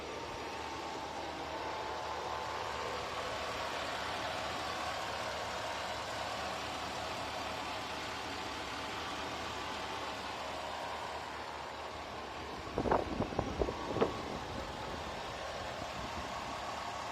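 Engine of a 2004 GMC Yukon SLT Quadrasteer 2500 4x4 with a 6.0 V8, idling steadily under the open hood as a low, even hum, with a few short clunks or knocks near the end.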